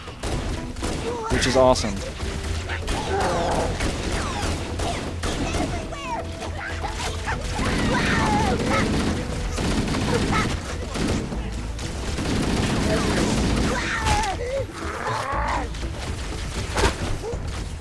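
Pistol fire from Halo Anniversary during a firefight with an elite, sharp repeated shots and impacts mixed with game effects and a voice talking over them throughout.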